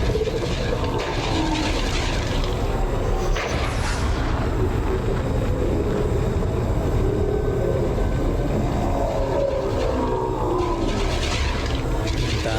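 A Thargoid Basilisk ship flies by in a space combat video game, a steady loud roaring drone with shifting whooshes and tonal swells that sustains throughout.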